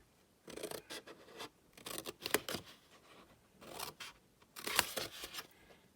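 Scissors trimming paper for a Stampin' Up strawberry hand lotion gift box, several short crisp snips and slicing strokes in bursts, close and fairly quiet with pauses between cuts.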